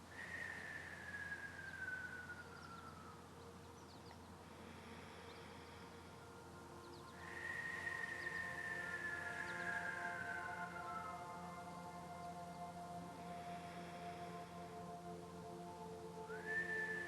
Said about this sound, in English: exhaling as a whistle.